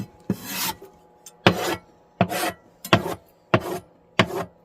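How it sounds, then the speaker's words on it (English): A knife scrapes pizza cheese across a board in six distinct, rhythmic rasping strokes, each a loud, bright swipe close to the listener with short pauses between, and no talking over them. "if you're scraping like this, go ahead and use the back"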